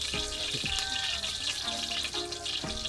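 Garlic and onion fry in a pan with a steady, dense sizzle and crackle, close and continuous, with a few faint clinks over it.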